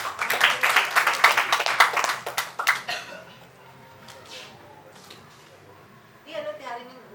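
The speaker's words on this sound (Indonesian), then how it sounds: "mari tepuk tangan dulu." A church congregation at a worship service claps hands together, a loud dense burst of clapping for about three seconds that then fades out, followed by quieter speech.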